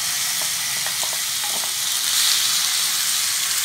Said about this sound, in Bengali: ম্যারিনেট করা মাংসটা কড়াইয়ের মধ্যে দিয়ে দেবো।